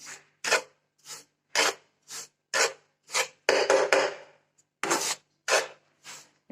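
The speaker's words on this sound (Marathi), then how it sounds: "आता घरा भाजून घेते एकदा चांगला" Fruit pulp being roasted with roasted gram flour in a pan for sweet vadi, a series of close, evenly spaced scraping strokes from stirring, about two each second, with one longer scrape midway. No talk.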